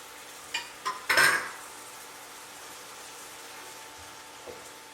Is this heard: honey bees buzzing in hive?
no